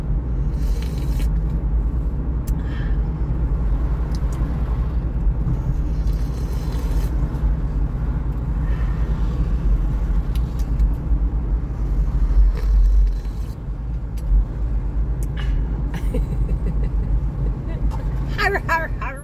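Low, steady engine rumble and road noise fill the interior of a moving car for the whole stretch, while a person talks over it almost continuously.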